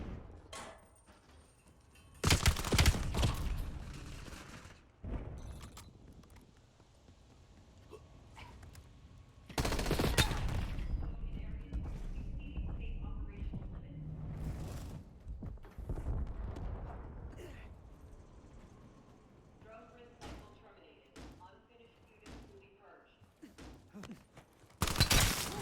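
Video game gunfire crackles in bursts of rapid automatic shots, with loud heavy volleys near the start and middle and sparser single shots between, close and punchy throughout.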